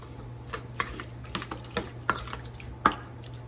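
Shrimp are tossed with a garlic, salt and pepper coating in a home kitchen, producing soft irregular clicks and scrapes of a utensil against a bowl, with a few sharper taps standing out over a low steady hum.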